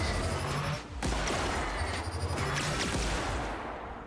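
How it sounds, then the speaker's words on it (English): Plasma rifle firing in The Outer Worlds video game, a rapid burst of sharp energy-weapon shots in quick succession over busy combat noise, then tailing off toward the end. "plasma rifle definitely the way to go"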